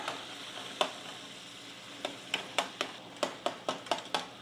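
Canned corned beef hash frying over high heat in a pan, a constant sizzle with a series of sharp metallic scrapes and taps as a metal spatula breaks it apart, close and fairly quiet.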